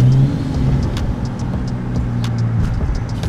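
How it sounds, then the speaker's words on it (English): A turbocharged 585 bhp BMW 535d engine drones steadily and close, with a low rumble and faint higher turbo whistling, no voices. "I love the turbo sound"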